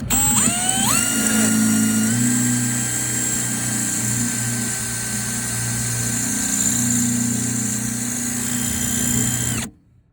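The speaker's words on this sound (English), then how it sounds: "We'll be like a locksmith and drill this bitch out." A power drill bores out the lock on an American Standard Trane YSC060 rooftop gas unit, whining loud and steady for about ten seconds after a brief spin-up, then cutting off abruptly.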